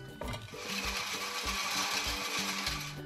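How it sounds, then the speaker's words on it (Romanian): An electric hand mixer whirs steadily while beating egg whites to stiff peaks for ricotta pancakes, a continuous close motor drone with slight rhythmic pitch shifts as the beaters move through the bowl. "Acum o să batem albușurile spumă. Vrei să le bați tu? Da. Cu ce le bați? Cu mixer."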